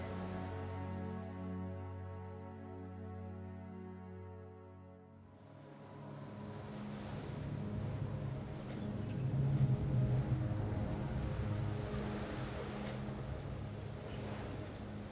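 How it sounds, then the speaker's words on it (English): A boat engine in the horror video game The Dark Pictures: Man of Medan drones with a steady low harmonic hum, then shifts into a rougher, louder rumbling churn that holds to the end. "Oh, goddamn engine."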